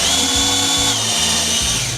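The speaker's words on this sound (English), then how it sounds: "Just take your drill. Now when you're drilling, be careful and gentle." A power drill whirs continuously in a drilling fixture, its motor pitch dipping briefly in short repeated pecking bursts as the bit bites into a solvent trap cup.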